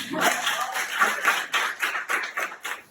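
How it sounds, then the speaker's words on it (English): Audience clapping after a request to applaud a speaker's father at a speakers forum, a short burst of hand claps with a loose, uneven rhythm that fades and surges over a few seconds. "give one round of applause for my dad"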